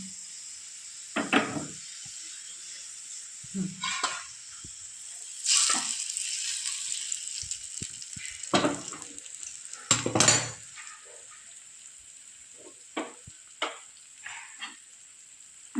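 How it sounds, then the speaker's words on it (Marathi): Hot tadka of garlic, green chillies and Kashmiri red chilli meets besan being cooked on a tava, with short sizzling bursts and scraping utensil clatters spaced irregularly against a quiet background. "आता हा तडका आपल्याला बेसनावर टाकायचा आहे"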